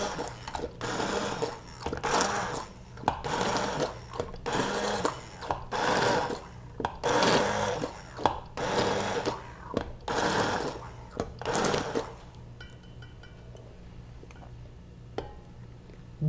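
Immersion blender zapping chunks of fresh tomato for marinara sauce, a series of loud whirring bursts with short pauses between them, followed by a quieter stretch of light clinks and kitchen sounds.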